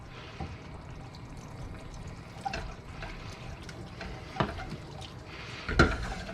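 Milk trickling into a flour mixture for lasagna béchamel while a whisk stirs it, soft liquid sounds with a few sharper clinks of metal against the pot, fairly quiet and close.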